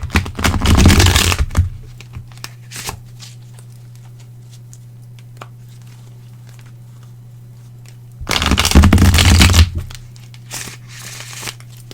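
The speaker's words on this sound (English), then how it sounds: "now let me shuffle the cards" Tarot cards being shuffled in two distinct bursts, one at the start and another a few seconds later, close and crisp, with a quiet steady hum and occasional small clicks in between.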